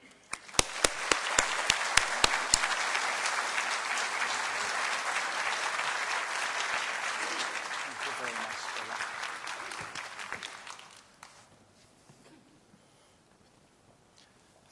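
An audience at a lecture on Maya archaeology bursts into warm applause, a dense steady clapping that holds for about ten seconds before fading out into near silence.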